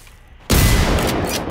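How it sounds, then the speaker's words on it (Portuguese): A 12-gauge shotgun fires once in the open-world shooter Generation Zero against a large robot, a sudden loud blast after a quiet moment, followed by a sustained rumbling echo. "vou dar só um tiro de 12, recuar,"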